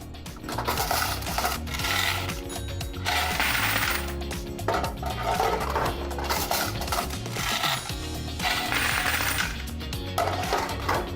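Quarters spill and clatter out of a laundromat change machine's coin box, a dense, continuous metallic jingling and rattling of many coins that swells and ebbs throughout, loud and close.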